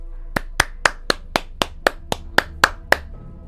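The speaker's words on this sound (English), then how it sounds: "I give these guys a round of applause." Eleven sharp, evenly spaced claps ring out one by one in a quiet space, each a crisp isolated smack, in the video game Alan Wake 2 on PS5.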